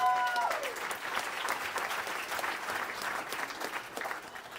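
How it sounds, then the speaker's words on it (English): Crowd applause at a college commencement ceremony, a full, sustained round of clapping from a large audience that stays steady and fairly loud throughout, with a brief tonal voice at the start. "Let's give them one more big round of applause."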